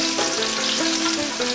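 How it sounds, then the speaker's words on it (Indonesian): Shallots sizzle and crackle steadily in hot oil for a chicken dish with soy sauce and nutmeg, a close, continuous frying hiss with no voices. "Kita goreng dulu bawang merahnya."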